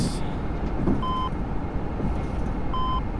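A cockpit warning in the Prepar3D flight simulator sounds during takeoff, two short tonal beeps about two seconds apart over the steady roar of engine noise.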